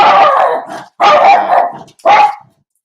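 A dog barks close and loud in three bursts, each a cluster of rough barks separated by short silences, with no other sound around it.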